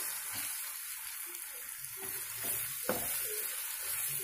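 Shallots and dried red chillies sizzle quietly in hot oil as they fry until golden brown, a faint, steady crackle with a few soft stirring knocks.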